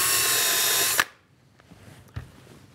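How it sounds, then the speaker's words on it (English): Close, loud whine of a power drill with a self-centering bit boring a pilot hole for a router table runner, cutting off abruptly after a second, followed by a couple of faint knocks. "So I'll just drill my holes"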